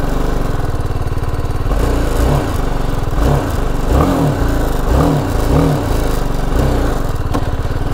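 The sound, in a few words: BMW G 310 GS Rally Edition motorcycle engine running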